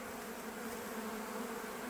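Honeybees flying in large numbers around their hives on a sunny, windless October day, a steady faint droning hum with no voices.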